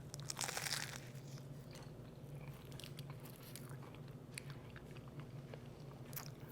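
Crisp bites and crunchy chewing of flaky Greek meat pies (kimadopitakia) topped with tzatziki, close and fairly loud, with a sharp crackling bite near the start followed by steady softer chewing.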